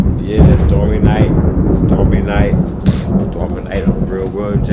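Low thunder rumbles beneath a steady rain hiss on a stormy night, while someone talks loudly over the storm for most of the stretch.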